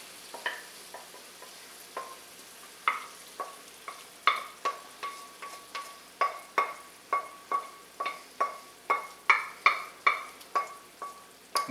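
Onion mixture tipped into a pan for Coquilles Saint Jacques, then stirred with a steady run of sharp scraping strokes over a low sizzle, close and fairly loud, strokes growing more regular toward the end.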